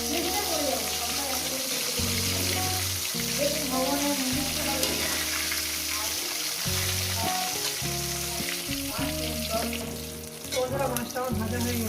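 Catla fish pieces sizzle and crackle in hot oil in a pan, a steady broadband frying hiss running the whole time beneath louder background music.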